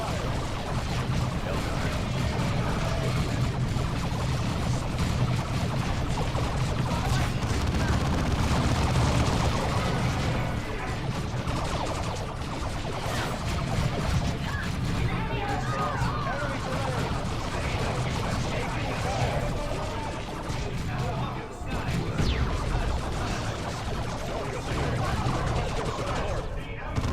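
Dense, continuous squad gunfire and crashing battle noise from the Dawn of War II Primarch campaign, loud and unbroken throughout with a brief dip near the end, and voices mixed in underneath.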